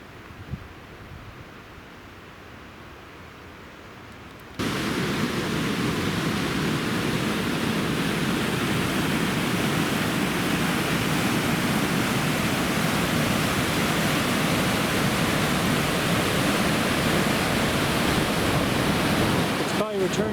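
Return Creek rushes loudly near a bridge on a high-country trail in the Grand Canyon of the Tuolumne, starting faint and then swelling suddenly into a steady, broadband roar.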